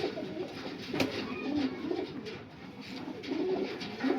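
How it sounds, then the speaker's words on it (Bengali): Panjabi Malwai Miravwale pigeons, a closed-tail breed, coo softly in steady, low, rolling calls that continue throughout without talk. "প্রত্যেকটা পায়রা বন্ধ লেজের পায়রা।"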